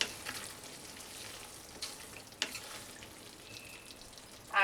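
Ridge gourd curry cooked with coconut is stirred in a pan after sugar is added, giving a soft sizzle with a few scraping clinks of the spoon.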